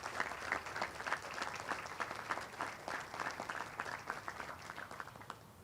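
Another round of audience applause for the president at a Memorial Day ceremony, a moderate, even spread of many clapping hands, somewhat distant and steady throughout.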